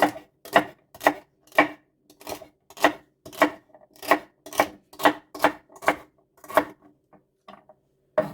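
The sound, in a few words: chopping celery leaves finely with a knife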